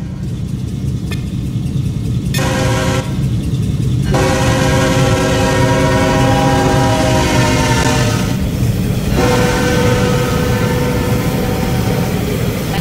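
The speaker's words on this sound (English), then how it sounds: "let's listen to that horn" A loud Tri-Rail train horn in a Roblox game blares in long sustained blasts, a deep multi-tone chord cutting in and out over steady rumbling rail noise.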